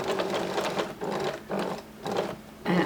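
A sewing machine stitches through a thick denim jeans hem in four short bursts, each about half a second long, with brief pauses between them, running close and steady.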